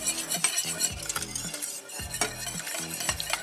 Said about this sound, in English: you want to whisk this all together as you want to work it around and round